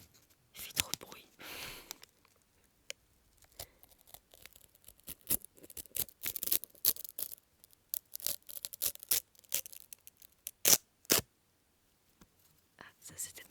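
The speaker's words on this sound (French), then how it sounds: "Moins fan du papier de cuisson là. Il fait trop de bruit." Baking paper is torn close to the microphone in bursts of crisp ripping and crinkling, irregular and loud, with quiet pauses and soft whispering in between.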